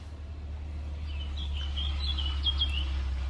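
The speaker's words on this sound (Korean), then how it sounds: "새가 너무 많아. 시끄러." Many small birds chirp faintly in the distance at a campsite in Germany, their high twittering scattered over a steady low rumble of wind or traffic.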